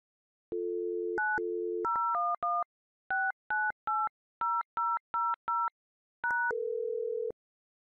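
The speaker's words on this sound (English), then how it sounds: "You can speed this up by pressing the pound key when you're finished dialing." Telephone keypad tones on a business phone line: a steady dial tone, then a quick run of distinct touch-tone beeps with short gaps between them, ending in another long held tone, all clean and without talk.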